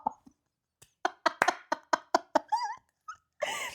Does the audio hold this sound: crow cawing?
no